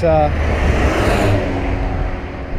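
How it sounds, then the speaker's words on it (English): A semi-truck swooshes past a 2005 Honda Hornet 600 motorcycle on a highway: a loud, broad rush of wind that swells and fades within a couple of seconds, over steady buffeting wind and road roar. "when a semi-truck comes along and just swooshes past you, just like this one right here"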